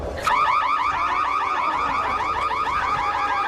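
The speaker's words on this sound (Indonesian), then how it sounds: "menyalakan alarm kebakaran hingga membuat psikopat itu begitu tersiksa" A loud fire alarm wails continuously, its warbling electronic tone sweeping up and down in rapid repeating cycles, close and steady throughout.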